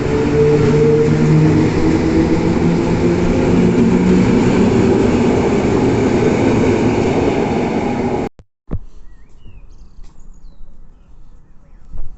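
A train passing the railway ramp at Tarnów, a loud steady rumble with clattering wheels and a drawn-out tonal hum that cuts off after about eight seconds. A fainter, sparse rumble with an occasional sharp knock follows.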